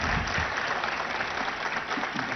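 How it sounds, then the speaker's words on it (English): Dense, steady audience applause fills the whole short stretch, loud and close, at a public event with a minister and visiting mayors at ICICI Bank Towers in Nanakramguda. "they deserve a big round of applause first"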